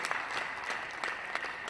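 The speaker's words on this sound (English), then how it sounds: "Please, a round of applause for him." Audience applause at a university convocation lecture: a steady, soft patter of many hands clapping, heard from a distance and held evenly throughout with a few sharper claps standing out.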